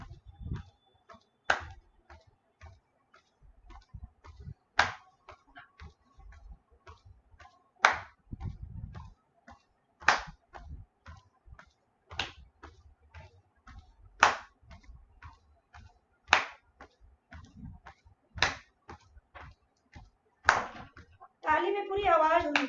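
During a yoga session, people walking in place clap their hands in a steady rhythm, one sharp clap roughly every two seconds, with faint voices and scattered small sounds between the claps.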